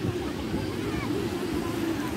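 Sea waves rolling in at a beach, a steady low wash of surf with a faint background hiss and no distinct breaks.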